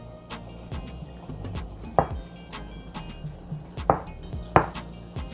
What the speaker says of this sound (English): While that's simmering, I'm going to cut the tofu.